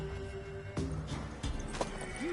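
A mare in The Witcher 3 game gives a few sharp hoof clops and stamps, ending in a brief rising whinny-like snort, close and moderately loud.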